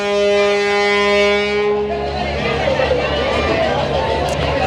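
A passenger river launch sounds a long, deep tonal horn, then the horn stops and a wash of engine noise and crowd chatter follows, with people talking nearby.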